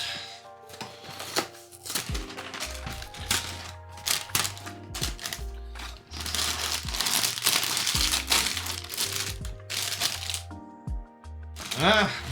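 A Halloween cereal packet being torn open, with loud crinkling and crackling plastic bursts throughout, some sharper rips, and a voice briefly speaking near the end.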